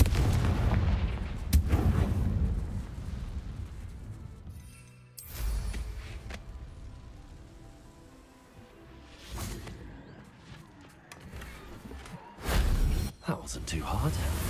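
Confringo fire spells explode in the video game Hogwarts Legacy, several booming blasts with whooshes breaking out among game sounds, with a voice talking at times.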